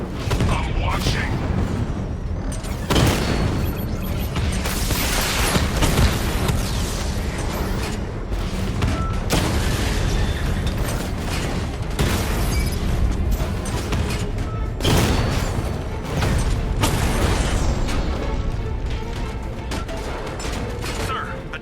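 Tanks blow up in the Batman Arkham Knight video game: heavy booms and crashing blasts burst one after another over a loud, continuous battle din, with voices talking over the action.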